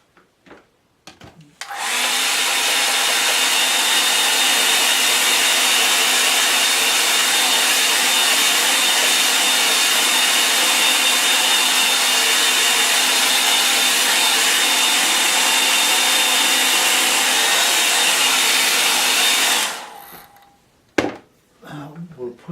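A hair dryer runs steadily for nearly twenty seconds, blowing over a wet-in-wet watercolour lake painting, loud and continuous with a clear whine, starting and stopping abruptly with brief handling noises around it.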